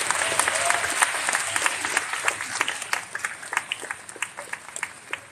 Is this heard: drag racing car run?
no